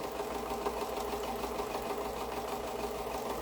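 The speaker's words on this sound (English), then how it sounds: "your sewing machine will want to do these curves quite easily" A sewing machine stitches steadily along curves in quilting fabric with a continuous mechanical whir and fine rapid ticking, close and even throughout.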